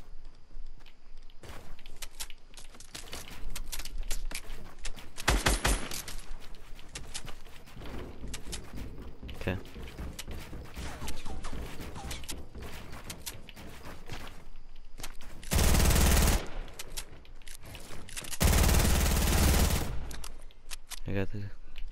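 Gunfire in a duos shooter video game: scattered sharp shots and rapid bursts throughout, with two loud, sustained volleys near the end, while players talk over the action.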